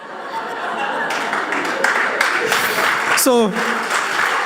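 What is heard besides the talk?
audience clapping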